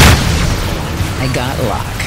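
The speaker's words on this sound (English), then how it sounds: "Missile inbound." A missile explosion in the space-combat game Rebel Galaxy Outlaw lands as a short, heavy boom at the very start, followed by a low rumble while someone talks over it.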